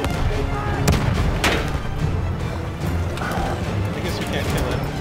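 A grenade explodes in the Battlefield 1 Sinai Desert Conquest map amid constant dense battle noise, a heavy boom standing out near the start over the ongoing rumble of gunfire and machinery.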